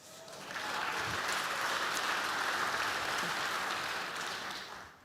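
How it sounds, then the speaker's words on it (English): A conference audience gives sustained applause, a dense, even wash of many hands clapping, somewhat distant and fairly soft, that swells in and then tapers off. "can we just, once again, give them a well-deserved round of applause"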